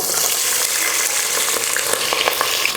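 Small onions and green chilies dropped into hot oil with popped mustard seeds and urad dal for vegetable rice, a loud continuous sizzle and crackle with a few sharper pops.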